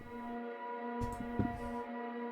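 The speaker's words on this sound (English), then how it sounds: "Lastly, we're grabbing a pad from the one-shot kit." A soft, sustained synth pad from a one-shot kit in FL Studio holds a steady chord at low level, with a few brief louder bumps beneath it and no talking.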